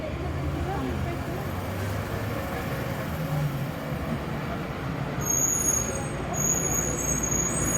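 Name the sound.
Toronto TTC 97B Yonge bus ride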